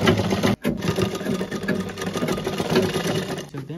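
A sewing machine stitching a kurta runs in a fast, steady, close-up mechanical whir. A brief stop comes early in the run, then it carries on continuously.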